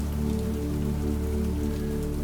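Rain falling on a window, a steady, dense patter of drops on glass, soft and even throughout with no voices.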